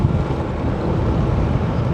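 Steady wind blowing by open water, a dense continuous rush with low rumble and no talk over it.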